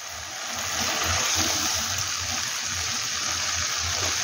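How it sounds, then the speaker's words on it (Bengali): Water pours steadily into a pan of cauliflower kofta curry, a continuous close gushing splash that holds for several seconds without pause. "এবার আমি জল দিয়ে দেবো।"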